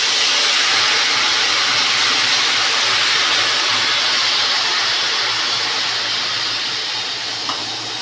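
Aloe vera gel hitting hot fenugreek oil, giving a loud, steady hiss and crackle that holds for the whole stretch and eases slightly near the end, with no talking.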